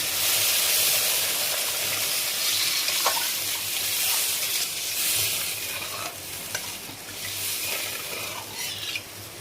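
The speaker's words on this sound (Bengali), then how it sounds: "এবারে আমি জলটা দিয়ে দিচ্ছি" Water pours into hot mustard paste in a pan on a low gas flame for a fish curry, a loud rushing hiss and bubbling sizzle that slowly eases, with a few stirring clinks and no talk.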